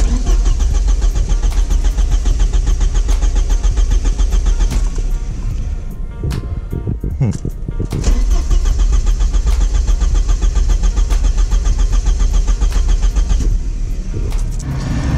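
A Porsche 944 engine that has sat abandoned for years cranks loud and close, the starter whirring in a long steady run, easing off briefly midway, then grinding on again without catching.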